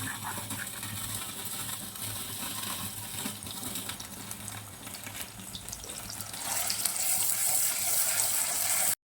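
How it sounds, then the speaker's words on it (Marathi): Ground masala paste frying in two spoons of hot oil in a pan, a steady broad sizzle that rises louder toward the end, with no talk. "मी आता दोन चमचे तेल टाकून घेते गरम झाले त्याच्यात वाटलेला वाटण आहे ना चांगलं परतून घ्यायचं आहे"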